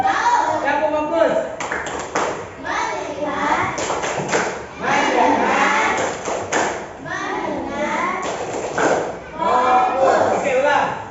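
Schoolchildren clap along to a short rhythmic classroom chant, their voices loud and close in unison, with sharp clap bursts and thumps falling in bursts between the sung phrases.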